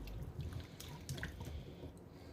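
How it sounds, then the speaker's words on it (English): Tap water runs steadily into a sink while corn on the cob is rinsed, with soft dripping and splashing close by and no voices. "So I managed to find some corn on the cob, so just going to wash out everything nicely."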